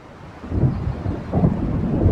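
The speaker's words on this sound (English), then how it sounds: "It seems there's a storm coming." Rolling thunder from a brewing storm over the lake in the game Alan Wake, a deep low rumble that swells twice across a couple of seconds, with no voices.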